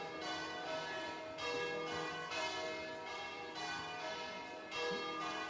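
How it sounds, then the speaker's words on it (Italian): Church bells peal from a bell tower at a hillside wine fair in Rua di Feletto, Italy, with rich ringing tones swelling in repeated waves roughly every second and a half, steady and moderately distant, with no talk. "anche le campane valorizzano i nostri discorsi"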